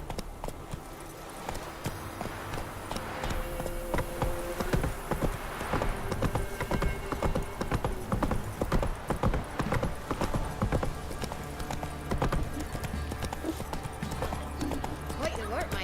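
Horse hooves clip-clop at a steady gallop in The Witcher 3, a continuous rhythmic beat with the occasional whinny, under game dialogue and ambient sound.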